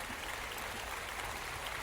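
Dense, even applause from a crowd, a steady wash of clapping heard at a moderate distance with no voices standing out.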